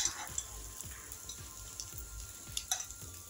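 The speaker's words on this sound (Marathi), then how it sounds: "थोड्या तेलावर आता आपण पॅटीस फ्राय करून घेऊ।" Ragda pattice cook in a little oil on a pan, a faint, quiet sizzle broken by soft repeated taps and scrapes of a spatula turning them over.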